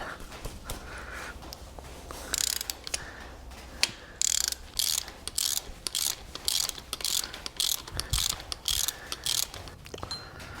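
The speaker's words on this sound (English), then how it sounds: "So the first order of business is to remove that existing bolt. Just a 10 millimeter." Ratchet wrench loosening a 10 millimeter bolt on an engine during injection pump work: a series of quick close clicking bursts in uneven runs, with short pauses between strokes and no talk.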